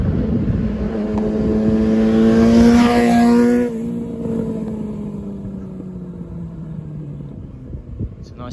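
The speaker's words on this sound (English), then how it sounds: "I can hear a motorcycle coming behind me as well." A motorcycle overtakes a cyclist on a smooth country road near Palma, its engine note rising loud as it draws alongside, then dropping in pitch and fading into the distance, with wind rumble throughout.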